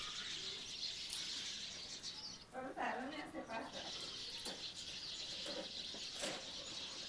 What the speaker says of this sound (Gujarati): ચકલાનો અવાજ જુઓ